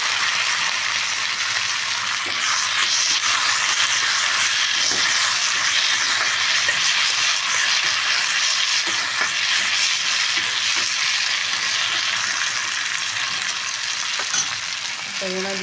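Potatoes and brinjal fry in a pan at a steady, close sizzle that holds loud and even throughout, with faint stirring scrapes and clinks.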